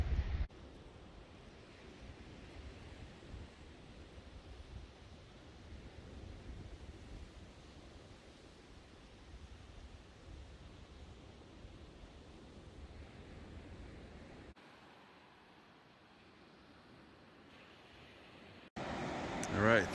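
Ocean surf at the mouth of the Sixes River on the Oregon coast at low tide, a steady broadband wash heard from the beach, close and continuous with wind buffeting, fading briefly before swelling again.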